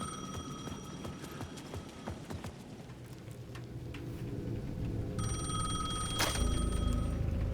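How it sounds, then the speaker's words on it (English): A payphone at the edge of a plaza in Alan Wake II rings in repeated bright electronic bursts, with soft footsteps and ambient noise beneath, the rings growing louder and fuller toward the end. "The payphone at the edge of the plaza was ringing again."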